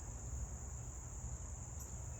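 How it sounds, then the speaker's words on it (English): Swarming wasps buzz in a steady outdoor drone on a disc golf course, a continuous insect hum with a high whine, fairly faint and unbroken, with no talking. "That's a lot of swarming wasps."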